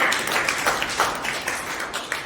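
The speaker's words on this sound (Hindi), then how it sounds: "शारदा जी की जोरदार तालियां।" A crowd at a women domestic workers' union election event claps for a vice president, giving a dense, continuous patter of applause at moderate loudness with no clear gaps.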